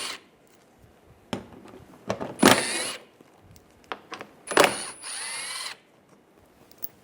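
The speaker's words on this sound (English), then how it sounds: "we'll take this shield off using an 8mm socket" A ratchet or power driver spins out 8mm shield bolts beneath a Mercedes-Benz E350 in several short close bursts separated by quiet pauses, alone with no talking.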